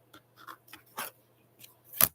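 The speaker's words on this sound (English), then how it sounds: "I am putting my ruler on here at the 1/4 inch and trimming the outer part of those off" Scissors trim the outer edge of quilt charm fabric along a ruler at the quarter-inch mark, making about six short, crisp snips in an uneven rhythm, close and alone, with the last cut the loudest.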